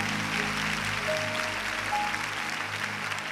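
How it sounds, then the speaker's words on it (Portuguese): A church congregation applauds the Lord during a worship service, a steady wash of many hands clapping at a moderate distance, continuous and even throughout with no voice standing out. "Você pode aplaudir ao Senhor?"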